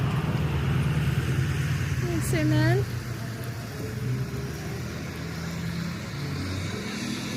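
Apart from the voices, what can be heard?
traffic noise on a small town's main road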